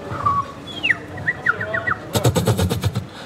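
A person whistles and chirps in imitation of a bird, giving a few rising and falling tweets, then a rapid burst of repeated chirps, close and fairly clear.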